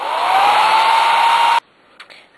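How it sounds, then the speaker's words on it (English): A hair dryer blows loudly with a steady whooshing roar and rising whine for about a second and a half, then shuts off abruptly, leaving a few faint clicks. "you can use your hair dryer and speed it up with the hair dryer."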